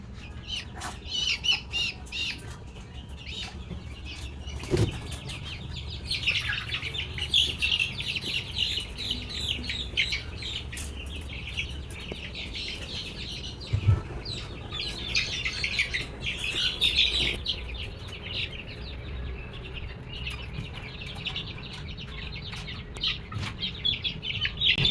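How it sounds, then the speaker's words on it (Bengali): White chicken chicks cheep and squawk in a steady, busy chorus, with occasional clucks from nearby fowl and a few sharp knocks. "এটা আমার খুব পছন্দের মুরগির বাচ্চা, একদম হোয়াইট কালার।"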